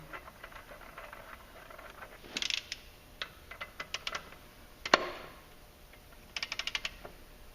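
A torque wrench tightens a clutch bolt to 96 foot-pounds on a 2018 Polaris Ranger XP 1000 during a clutch kit install: faint, scattered ratcheting clicks come in short bursts, with one sharper click in the middle.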